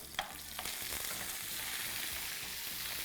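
Olive oil and butter sizzle with almonds in a pan, a steady, dense frying hiss that holds close and even throughout, with a couple of faint clicks near the start and no talking.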